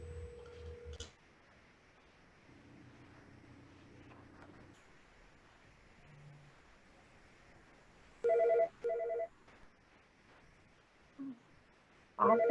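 A telephone ringing on an outgoing call during a commission meeting, heard as a few short bursts of ringback tone with quiet gaps between them, fairly faint against low room noise.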